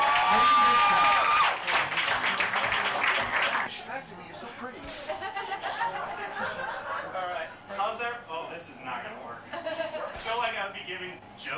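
A comedy club audience greets a comedian with a short burst of applause and cheering, which quickly gives way to chuckles and talking from the stage.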